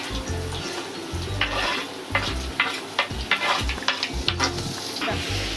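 Tomatoes and green chillies roasting in a hot pan for soya champ curry, a continuous sizzle broken by repeated scraping stir strokes that grow more frequent toward the end, close and unaccompanied by speech.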